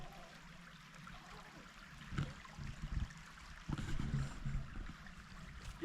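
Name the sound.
calm forest creek flowing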